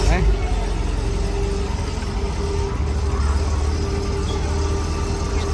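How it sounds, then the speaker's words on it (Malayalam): An old car engine idles steadily at close range, a continuous low rumble that holds throughout, with a person talking over it. "സ്റ്റാർട്ട് ചെയ്ത് അതിൻ്റെ സൗണ്ട് കേട്ടോ, വണ്ടിയുടെ സൗണ്ട് കേട്ടോ."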